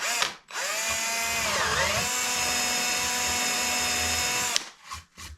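An electric drill with a 4mm bit whirs steadily for several seconds, its pitch dipping briefly as the bit bites in, then winds down and stops.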